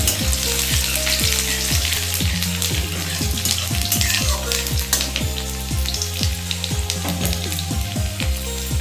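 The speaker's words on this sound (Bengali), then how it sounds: "ফোড়নটা ভাজা হয়ে গেছে আমি একটু রসুন কুচিয়ে দিয়ে দিলাম" Chopped garlic sizzles steadily in a hot oil tempering of black cumin seeds while kalmi greens are being prepared, the crackle running throughout beneath tuneful background music.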